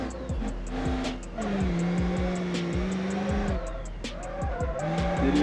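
A diesel pickup truck drifts in BeamNG.Drive, its engine revving and dropping through gears while tires squeal in long skids, loud and close, with someone talking over it.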